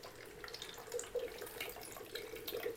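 Water poured out during a water challenge game, a steady trickling splash that runs continuously and fairly softly, with no talking.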